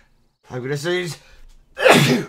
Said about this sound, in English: It's always twice whenever it comes to sneezing.